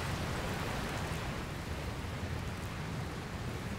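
Steady, dense rain hiss with a low rumbling thunderstorm undertone in Dragon Quest Builders 2, loud and continuous throughout with no voices.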